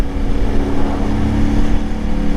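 Steady engine drone from a CFMoto IBEX 450 parallel-twin motorcycle held at highway revs, loud and continuous with wind rush throughout.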